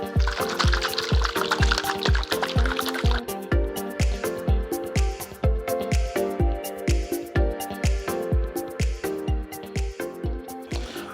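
Vinegar salad dressing with olive oil shaken in a container, a loud, rapid, regular sloshing and knocking rhythm of liquid thudding back and forth, continuous for about eleven seconds.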